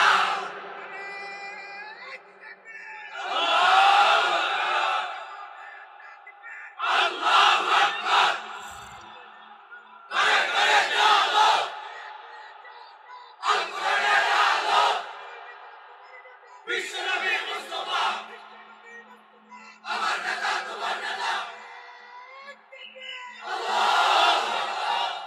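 A crowd of young men at a rally chants slogans in repeated, rhythmic bursts roughly every three seconds, loud and massed, with short pauses and a lone voice leading between them.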